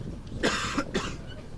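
Two quick coughs close by, a short pair of rough bursts with a brief pause between, over quiet room hiss.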